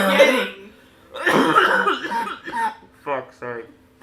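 A person coughs several times in a livestream chat, a burst of loud rough coughs followed by a couple of shorter coughs, mixed with voice sounds.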